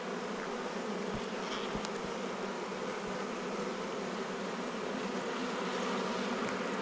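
Honey bees buzz steadily around an open beehive during an inspection in an Australian apiary, a dense continuous drone with faint crackles from the smoker and frames, no voices.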